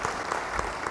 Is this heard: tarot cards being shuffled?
no